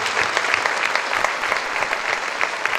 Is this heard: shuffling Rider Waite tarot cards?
no